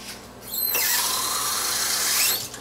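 A kitchen blender whirs loudly as it mixes fine semolina with water, starting with a rising whine, holding a steady high-pitched drone for about two seconds, then spinning down.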